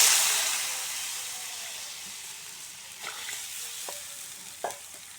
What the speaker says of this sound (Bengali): হলুদ দিয়ে তাড়াতাড়ি নাড়া দিয়ে তারপরে জল দিয়ে দেবো